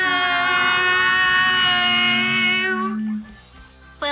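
Long, loud, wavering tonal calls with rich harmonics slowly sliding in pitch, then fading into a brief lower rumble.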